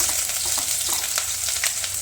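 Steady, loud sizzling of cumin, garlic and ginger frying in hot oil, a dense crackling hiss that fills the whole moment with no voices.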